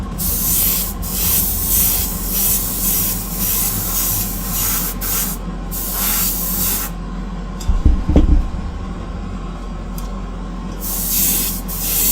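An airbrush sprays base coat onto Greek-style vases in a steady, close hiss made of repeated bursts, broken by short pauses and a brief low thump partway through.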